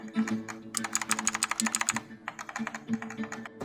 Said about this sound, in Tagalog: Ito guys yung pinakasulit na mechanical keyboard na nawakan ko.